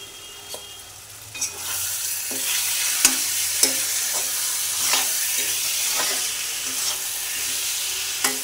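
Potatoes and rice fried with spices in a pan for a fish-head dish, a steady close sizzle broken by repeated scraping stirs and clacks of the spatula against the pan.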